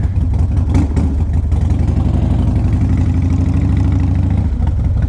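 A 2005 Harley-Davidson Dyna Super Glide with 17,000 miles fires up and settles into a steady, loud, lumpy V-twin idle, close to the listener and continuous with no talking.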